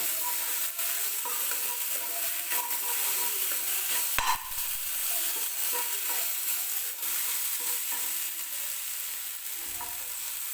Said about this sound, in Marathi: 2-3 मिनिटे मी हा कांदा टोमॅटो आणि आलं लसणाची पेस्ट टाकल्यानंतरचा जो मसाला आहे तो व्यवस्थित परतून घेणार आहे